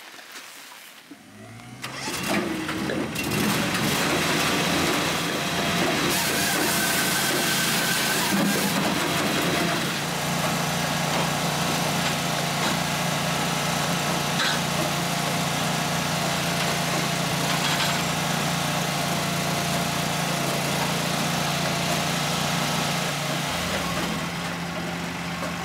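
A Hakki Pilke firewood processor's engine starts and then runs steadily for the rest of the stretch, a loud continuous mechanical drone with hum and clatter, close by and without talk.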